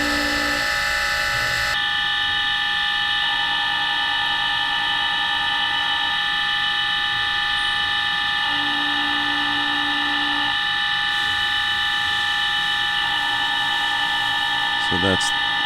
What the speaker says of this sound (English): And I come in with the dovetail tool,